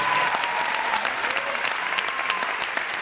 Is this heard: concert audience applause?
yes